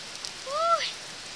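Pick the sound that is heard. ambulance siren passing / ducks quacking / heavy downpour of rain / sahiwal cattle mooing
heavy downpour of rain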